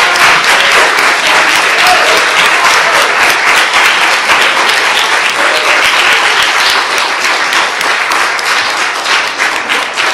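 Sustained audience applause at a town board of commissioners meeting, dense and loud clapping from a full room that holds steady for ten seconds and eases slightly near the end.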